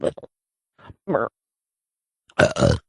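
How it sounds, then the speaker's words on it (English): A couple of short guttural sounds are followed by a loud, drawn-out burp near the end, with brief quiet gaps between them. "You burped and everyone knows you did it now."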